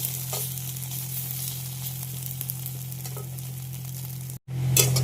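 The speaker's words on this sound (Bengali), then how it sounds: "পনিরটা একটু ভেজে নিচ্ছি" About 100 grams of paneer frying in oil in a pan, a steady close sizzle over a low hum, broken by a short silence and a louder burst of frying and stirring at the end.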